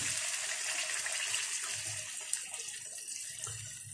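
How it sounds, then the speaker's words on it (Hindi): A steady rush of water pouring into a cooking pot of potato curry, continuous for several seconds, fairly close, with no talking. "अब हम इसमें पानी ऐड करेंगे,"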